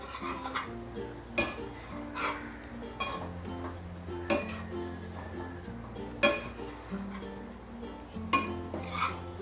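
Bread upma being sautéed and stirred in a pan with onion-tomato gravy, a spoon repeatedly clinking and scraping against the metal in sharp knocks over a soft background sizzle.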